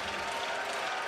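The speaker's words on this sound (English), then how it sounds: "The crowd and the noise in the arena is gradually lifting." Basketball arena crowd at a FIBA World Cup qualifier between Slovenia and Finland, a dense, steady roar of cheering and applause filling the hall without pause.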